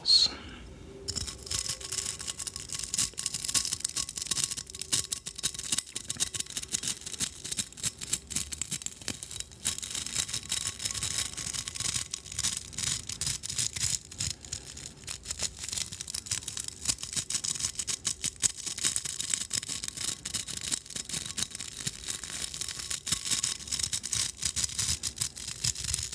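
A brush with rigid bristles is swept close up in a continuous scratchy, bristly rasp of repeated strokes, steady and fairly loud, with a soft voice briefly heard.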